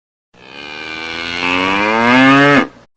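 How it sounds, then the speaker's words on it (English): A cow lets out one long, loud, close moo that rises in strength and holds before cutting off sharply, with no other sound around it. "Cow."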